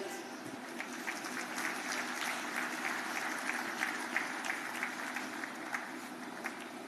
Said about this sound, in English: Let us all have a resounding of claps to mark this remarkable achievement.